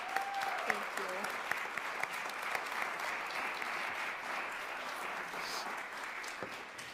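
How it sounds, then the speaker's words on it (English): An audience applauds recital artists after a performance, steady dense clapping filling the room throughout, with a voice briefly audible under it. "Please give them a big round of applause."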